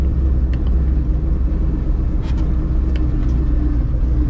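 A 1964 Chevy grain truck drives a lap with a steady, loud, low engine rumble and road noise throughout, close to the microphone.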